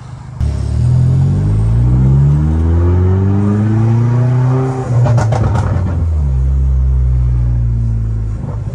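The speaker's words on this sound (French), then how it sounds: "Je vais éviter d'accélérer à côté de lui" An Opel Corsa D OPC with a full tube exhaust roars loud and close as it accelerates through rising gears, with a brief crackle at the shift and then a sustained deep engine drone.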